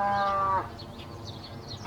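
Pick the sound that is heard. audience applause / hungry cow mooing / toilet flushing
hungry cow mooing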